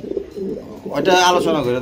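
A large pigeon at a pigeon sale gives low cooing calls while someone speaks loudly nearby.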